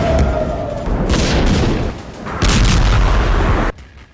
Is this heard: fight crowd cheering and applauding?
no